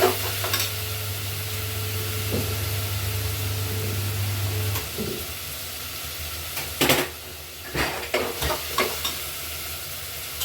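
Onion and tomato sauté in a pan for khichdi, with a steady close sizzle and frying hiss under stirring, and several sharp scraping clinks of a spoon toward the end.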